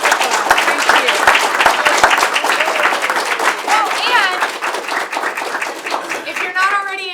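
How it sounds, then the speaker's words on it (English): Enthusiastic applause from an acting workshop audience in Atlanta fills the room, a dense wash of clapping hands that carries on steadily before easing off, with voices and chatter mixed in. "Let's give them a big round of applause."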